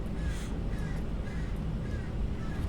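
Crow outside a window giving a series of repeated caws, about four evenly spaced calls, moderately distant over a low constant room hum, no voices.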